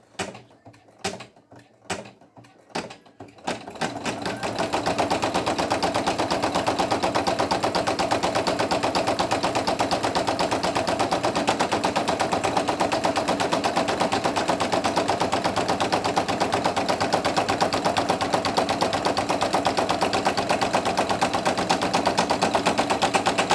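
A Brother single-needle sewing machine runs a dense satin stitch on pink fabric for a hippo appliqué on minky, starting with a few short bursts before settling into a steady, loud, rapid whirring hum close by.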